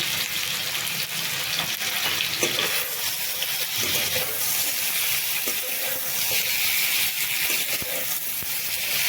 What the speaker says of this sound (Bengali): এবার আমি সজনে ডাঁটাকে আর আলুকে একসঙ্গেই বেশ ভালোভাবে ভেজে নেব